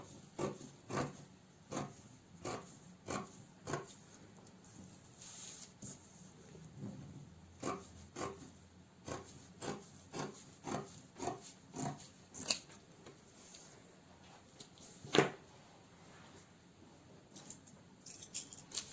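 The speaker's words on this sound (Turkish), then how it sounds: "Yine buradan dediğim gibi biraz paylı kesiyorum." Fabric being cut for a pleated skirt: faint, steady, repeated snipping and rubbing strokes in an even rhythm, one sharper snip standing out, with no talking.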